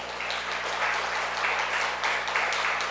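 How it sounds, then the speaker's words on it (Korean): Applause from a church audience during a sermon, a moderate wash of clapping that swells in small surges, somewhat distant and roomy over a steady low hum. "박수 한번 돌려야 되는 거 아니에요?"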